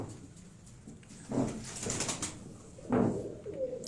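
Fancy racing pigeons coo near at hand in a breeder's loft, a few soft rolling calls separated by pauses, with faint background noise.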